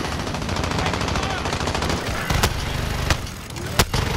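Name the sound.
gunfire in video game Call of Duty Modern Warfare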